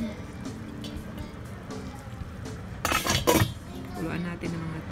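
A cooking pot for chicken tinola gets its lid set on: a brief cluster of metallic clinks and rattles midway, amid quiet kitchen sounds and someone talking.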